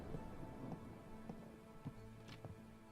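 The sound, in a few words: storm with rain and thunder in a video game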